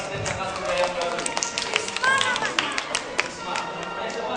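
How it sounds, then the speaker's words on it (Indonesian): Children clap for a magician's new assistant at a kids' magic show, a scattered, light patter of hands mixed with nearby voices and chatter. "Tepuk tangannya dong buat asisten kakak yang baru"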